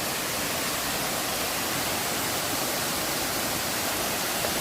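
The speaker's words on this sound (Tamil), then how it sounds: "தண்ணி சவுண்டு பயங்கரமாக இருக்குங்க." Loud, steady rushing roar of the Kattar waterfall in forest country, a dense continuous wash of falling water close by, with no voices over it.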